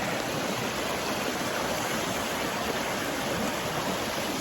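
A river stream flows in a steady, dense rush of water that holds constant, close and loud, with no voices.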